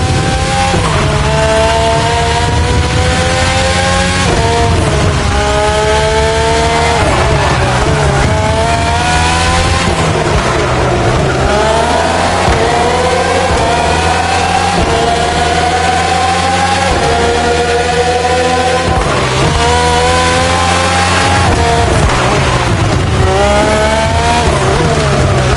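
Red Bull F1 cars, RB13, RB14, RB18 and RB20 with Renault and Honda engines, race in The Crew Motor Fest, their high engines screaming loud and continuous, rising and falling through repeated gear shifts and revving sweeps.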